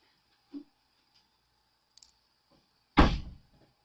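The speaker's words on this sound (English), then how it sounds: "I'm slamming doors" A single loud, close door slam in a quiet room, preceded by a few faint clicks and knocks, with no talk over it.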